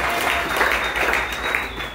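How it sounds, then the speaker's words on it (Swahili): A church congregation applauding at an Easter Sunday service, a dense burst of close clapping that fills the whole moment without voices over it. "Tumpigie Yesu makofi."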